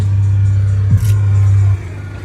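A truck engine holds a loud, steady low rumble close by, with a brief dip near the middle, then drops away sharply toward the end.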